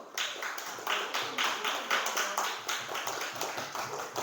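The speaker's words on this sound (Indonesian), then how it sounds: "Beri tepuk tangan untuk kelompok 1." Classroom applause for a student group in an Indonesian lesson, rhythmic unison clapping in quick regular bursts, fairly close and loud, with faint voices underneath.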